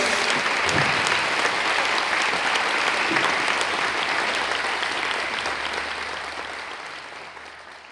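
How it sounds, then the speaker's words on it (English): Sustained applause from a crowd, dense and steady clapping that slowly fades toward the end. "How about one more round of applause for Shelley?"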